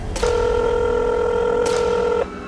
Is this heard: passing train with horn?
no